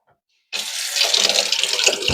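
Warm water, a measured cup and a half, pours steadily into a bowl for sourdough, starting abruptly after a moment of silence and continuing as a close, bright splashing stream.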